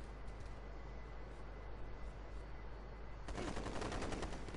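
Rapid gunfire bursts in the Ghost Recon Future Soldier online multiplayer game, faint at first under game noise, then a louder sustained stretch of dense automatic shots near the end.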